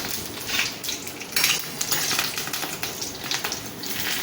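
Whole Kashmiri red chillies and a bay leaf frying in oil, a moderate crackling sizzle with light scraping and clinks of a utensil against the pan, no voices.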